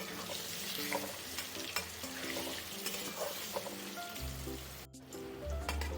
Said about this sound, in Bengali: নুন আর হলুদ দিয়ে এবার আলুগুলোকে আমি লালচে করে ভেজে নেব।